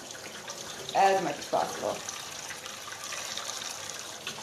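Warm tap water runs from a faucet into a cup, a soft splashing pour that swells briefly before settling into a faint trickle, while someone talks.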